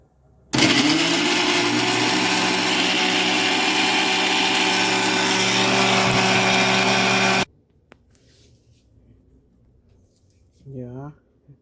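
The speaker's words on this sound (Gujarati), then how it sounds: "પછી હું આ મિક્સરમાં પીસી લઈશ" A mixer grinder whirs loudly and steadily for about seven seconds as it grinds orange pulp for jam, then cuts out abruptly. A voice speaks briefly in the quiet afterward.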